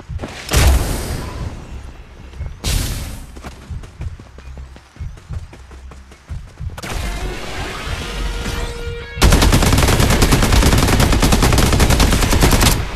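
Rapid bursts of automatic gunfire and single shots in the battle royale game Farlight 84, loud and close, breaking into separate volleys before a dense, sustained barrage of continuous fire with no talking.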